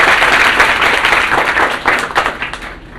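Loud, dense applause from a crowded audience at a coaching institute greets a guest teacher, a continuous roar of many hands clapping close by for several seconds.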